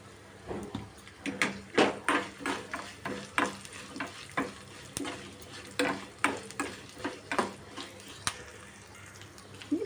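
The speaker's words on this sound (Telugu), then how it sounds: "తాలింపు మొత్తం వేగిపోయింది." Tempering spices with asafoetida frying in hot oil while cooking sameya pulihara, heard as a soft background sizzle broken by repeated sharp stirring and scraping clinks at an irregular rhythm, with no talking.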